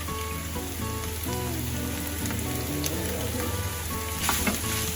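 Chopped onion and capsicum sizzle on high flame in a pan for chicken tikka filling, a steady close frying hiss throughout with faint stirring scrapes.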